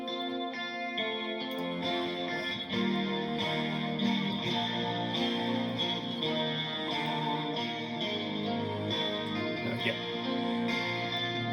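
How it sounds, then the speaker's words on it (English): Crunchy distorted electric guitar with spangly clean picked notes layered over it, a dense steady wall of sound with chorus and echo effects, loud and continuous throughout. "Crunchy distortion guitar and some spangly clean picking."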